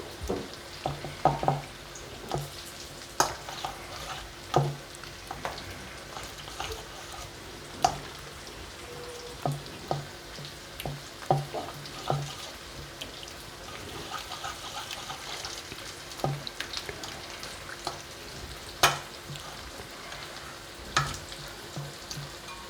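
Masala thinned with a little water being stirred in a hot pan for stuffed bitter gourd curry, a continuous sizzle and bubbling crackle with frequent clinks and scrapes from the spoon, close and fairly loud.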